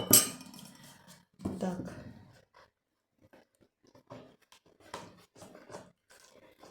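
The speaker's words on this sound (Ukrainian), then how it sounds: "перемішуємо так трішки лопаткою" Soft scraping and clinking of a spatula against a bowl as a mixture is stirred, a few louder strokes at the start followed by quieter intermittent scrapes.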